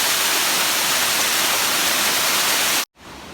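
A waterfall roars as a loud, continuous broadband rush of falling water, steady throughout until an abrupt cut, then a quieter wash of water resumes.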